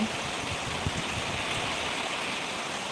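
Heavy rainwater runs across a road after an all-night downpour, making a steady, close wash of rushing, splashing water that holds an even level throughout with no voices.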